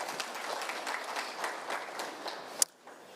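An audience at a prison and correctional service parole conference applauds in a quiet, fairly distant spread of steady clapping that breaks off with a sharp clack near the end, leaving near silence.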